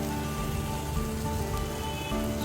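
Onion, ginger, chili and carrot frying in oil for fried rice, a dense continuous sizzle at steady loudness with no pauses.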